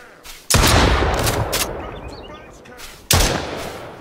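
Two loud video game gunshot bursts fired at zombies, each a sharp blast followed by a long rumbling decay, the second about two and a half seconds after the first.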